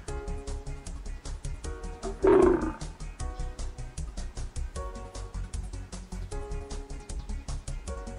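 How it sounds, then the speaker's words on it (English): Lion roaring in a single loud, deep burst midway, set against a steady rhythmic musical backing that runs throughout. "There are two lions."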